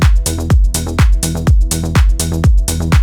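Synth rolling bass line with the first two sixteenths of each beat muted, a loud, punchy, steady offbeat pulse of deep bass notes repeating evenly for a few seconds.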